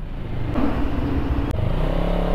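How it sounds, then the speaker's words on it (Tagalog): A CFMOTO CLX 700 motorcycle engine revs steadily at close range while riding toward an expressway, a continuous rumbling drone with a brief dip partway through. "Masdan nyo yung RPM tapos pakinggan nyo yung motor"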